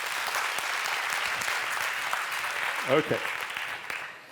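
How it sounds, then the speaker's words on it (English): Audience clapping at a debate on whether AI will kill education, a show-of-hands vote by applause, with moderate, scattered claps fading toward the end and a brief spoken word over it. "For those of you that do think AI will kill education, can you clap now?"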